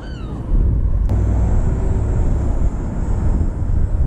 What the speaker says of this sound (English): Right, let's get this drone up.